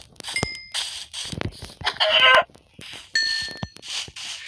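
Minecraft chickens cluck in short bursts amid clicks and chimes, with a brief busy flurry of bright tones in the middle.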